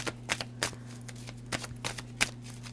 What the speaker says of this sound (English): Damn, like I shuffled real good